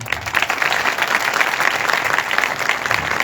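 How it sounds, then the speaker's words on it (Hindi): An audience applauding steadily at a live Christian praise and worship event in Larkana, a dense wash of many hands clapping at even loudness throughout, with no voices standing out. "आए फिर यीशु के लिए तालियां बजाएं।"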